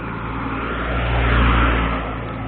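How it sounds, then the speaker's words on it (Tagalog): A car drives past close by, its engine revving up to a peak mid-pass and then easing off as it moves away. "Boss, may sasakyan."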